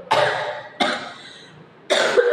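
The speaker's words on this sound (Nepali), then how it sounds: "कस्तो डरलाग्दो यस्तो खोकी चलिरहेछ" Three harsh, raspy coughs from a sick person, spaced irregularly and close up, with short quiet gaps between them.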